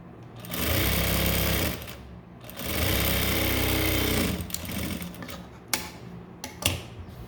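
Sewing machine stitching a straight seam on a blouse, two loud sustained whirring bursts close by, then a pause with a few sharp clicks and knocks.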